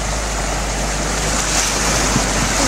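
Steady rush of water splashing and surging as waves hit a 4x4 driving through a ford, loud and continuous, with wind-like noise over it and no talking.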